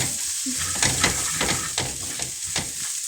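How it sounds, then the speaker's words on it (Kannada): Coriander seeds frying in hot oil in a pan while a chicken sukka is being cooked, a steady close sizzle with repeated stirring scrapes throughout, no voices. "ಧನಿಯಾ ಬೀಜ. ಅದನ್ನು ಕೂಡ ಎಣ್ಣೆನಲ್ಲಿ ಚೆನ್ನಾಗಿ ಫ್ರೈ ಮಾಡಿ."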